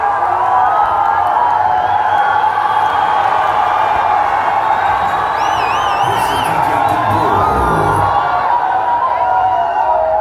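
A large live crowd in Githurai cheers, whoops and shouts continuously at a loud, dense level throughout, with a few higher whistles or cries rising above the roar.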